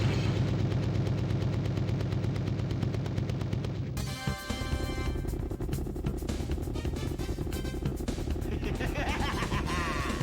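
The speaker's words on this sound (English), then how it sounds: "Save your bullets, you only have a machine gun for this section." Machine gun fire in the arcade action game Elevator Action Returns, rapid steady automatic bursts over game music and effects for about ten seconds, with a sharp shift in the sound partway through.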